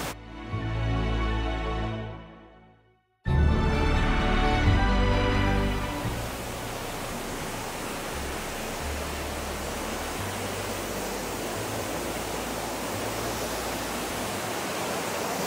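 A waterfall at Cherrapunji roars steadily as its spray turns to mist, a broad, even rushing wash that swells in after a brief gap and continues unbroken, loud and enveloping.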